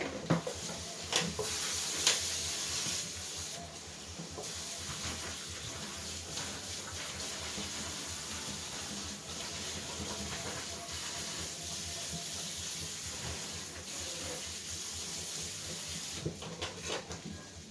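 Black beans rinsing in a strainer under a running sink tap, a steady hissing wash of water that lasts throughout with a few clanks of the strainer against the sink near the start and end.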